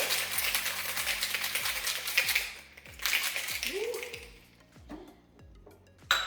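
Pineapple jalapeño margarita shaken in a cocktail shaker, with ice rattling in a quick, even rhythm close by, pausing briefly before a few last clinks.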